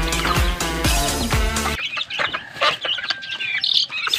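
Young chicks being fed chirp and cheep steadily, with sharp light clicks and taps mixed in near the end.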